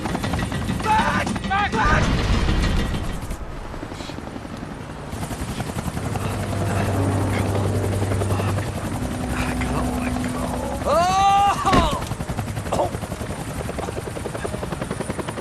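Helicopter from the video game Max Payne 3 thrums steadily and loudly throughout, mixed with gunfire bursts and shouted dialogue in a tense action scene.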